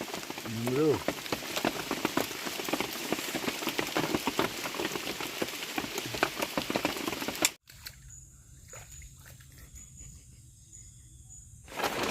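Rain falls steadily in a forest, a dense continuous patter that runs loud for several seconds before cutting abruptly to a much quieter, sparse hiss with scattered drips.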